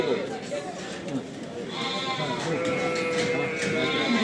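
Sheep and lambs bleat repeatedly at a busy livestock market in Kadirli, several overlapping calls near and far amid a constant crowd murmur and people talking.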